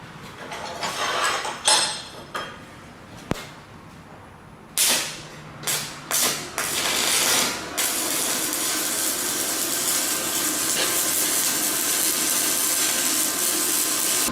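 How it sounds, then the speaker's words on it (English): Stick welding arc from a 7018 electrode on scrap metal, run on a Harbor Freight welder with an unusual arc. A steady broadband crackling hiss holds for about seven seconds after several short strikes and bursts, with no talking. "So this thing has a very unique stick arc. It actually does run a 7018 pretty well, even just on some scrap metal here, but it sounds weird."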